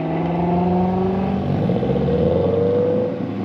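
An A6 car's engine revs and pulls away nearby as it leaves a night car meet, its rising drone loud and steady, then easing slightly as it moves off.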